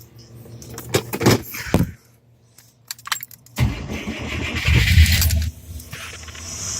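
An old carbureted car with freshly swapped carburetor floats is started in a garage: a few clicks and key jingles, a pause, then the engine catches and runs roughly up close.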